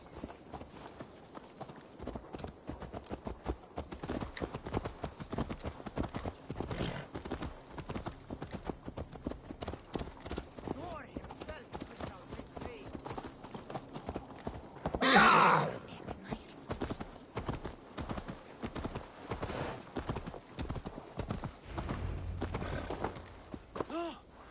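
Horse hooves clip-clop in Assassin's Creed Valhalla in a steady walking rhythm, moderately close, with a short louder snort or whoosh partway through.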